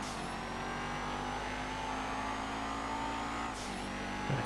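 Blister compact car from GTA V, its engine holding a steady high-revving drone throughout, loud and close, with a brief dip near the end and no talk.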